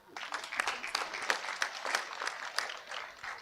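Audience at a university graduation ceremony applauds in a dense, steady wash of many hands clapping, moderately loud and sustained throughout.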